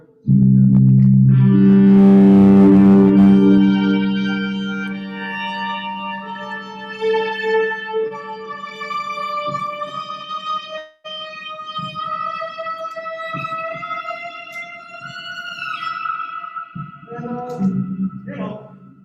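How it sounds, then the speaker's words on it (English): A heavily distorted instrument sustains a loud, gritty tone that slides and bends upward, its buzzing harmonics fading then swelling again near the end. "Distortion."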